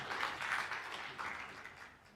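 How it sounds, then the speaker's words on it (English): Audience applause at an energy industry panel session on natural gas and climate, a steady wash of clapping from a conference crowd lasting about two seconds and slowly fading, with no talk over it. "A round of applause for him, please."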